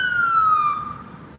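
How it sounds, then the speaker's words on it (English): A police car siren wails loud and close in a single descending tone that fades, then cuts off abruptly, with no talking over it. "But the one pulled up with the sirens, they all over here."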